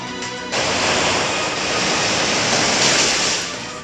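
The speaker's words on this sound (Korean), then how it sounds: "그 다음에 저는 대짱이로 파도타기를 쓸게요" Swampert's Surf attack in Pokémon Omega Ruby/Alpha Sapphire bursts in as a loud, sustained rushing wash of water that roars for over three seconds before easing off, with no talk over it.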